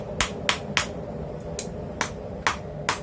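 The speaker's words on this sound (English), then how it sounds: "It's the water tower hammer that I saved and refurbished." Blacksmith's refurbished water tower hammer striking hot steel while forging a slot punch: a series of sharp, ringing metallic blows at an uneven rhythm, about eight strikes over a few seconds, close and clear.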